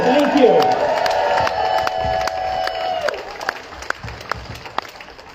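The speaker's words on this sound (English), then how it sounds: "let's give a huge round of applause to Kendra and Hannah and the organizers" An audience gives a round of applause at a student protest against mandates, a dense burst of clapping that fades over a few seconds into scattered claps, with a voice speaking briefly near the start.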